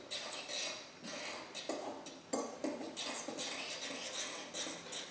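A fork stirs pizza dough ingredients with yeast in a bowl, giving soft, intermittent scraping and light clinks of metal against the dish, close and fairly quiet, without speech.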